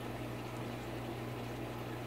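Water is poured and filled during an aquarium water change, a faint, steady, bubbling rush of liquid running continuously, with no talk.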